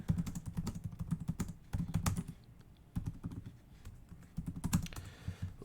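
Fast typing on a computer keyboard comes in bursts of rapid key clicks with brief pauses between them, close and fairly quiet.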